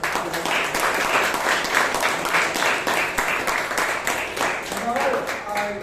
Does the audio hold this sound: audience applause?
yes